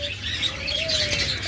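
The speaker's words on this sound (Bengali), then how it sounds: "এরপর একটা চমৎকার মিউটেশনের লাভবার্ড রয়েছে দেখুন" Lovebirds and budgerigars in a breeding cage chirp and tweet continuously, a busy chatter of overlapping calls with one thin sustained whistle running through.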